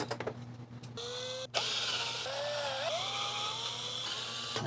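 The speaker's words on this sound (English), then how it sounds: "so I'm just going to use my drill." A small electric drill whirs while unscrewing an IBM PC/AT Model 5170 power supply: a short burst, a brief stop, then a longer steady whine that rises and dips in pitch as the motor loads. No voices.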